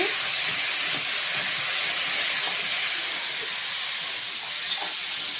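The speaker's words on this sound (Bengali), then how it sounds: "এই যে দেখুন আমি এখন নাইরা দিতেছি" A curry cooks in a pot while being stirred, giving off a continuous, even hiss of sizzling with occasional faint scrapes, close and fairly loud with no voices.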